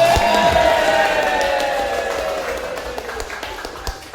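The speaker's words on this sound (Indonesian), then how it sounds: "Yang terakhir, tepuk tangan untuk saya." An audience applauds and cheers at a sales seminar, a loud burst of clapping and voices that slowly fades over several seconds.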